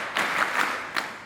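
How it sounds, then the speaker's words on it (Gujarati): Audience clapping at a college function, a short burst of applause with a few louder swells, fairly close and without speech over it. "મિત્રો આપણે જોરદાર તાળીઓથી વધાવી દઈશું"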